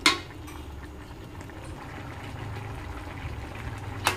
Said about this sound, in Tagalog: Kumukulo na siya ng gusto.